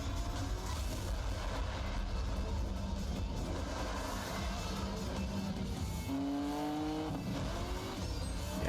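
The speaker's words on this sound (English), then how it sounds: "I love that the Triceratops still has an engine noise as well" Engine drone from a vehicle shaped like a Triceratops in the arcade racing game Cruis'n Blast, a steady loud roar with rising revs and tire squeals throughout, layered with game music.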